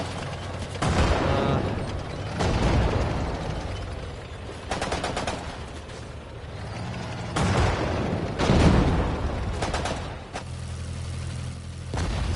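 Cannon blasts and bursts of gunfire from a Sudden Strike 4 battle in a World War II real-time strategy game, loud and repeated, with machine-gun rattles and heavy booms coming in waves.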